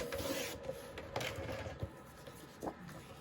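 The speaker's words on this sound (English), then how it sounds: "I'm going to cut about 1 inch off" Scissors cut through a sheet of yellow scrapbook paper, trimming about an inch off with soft, quiet snips and rustles close by.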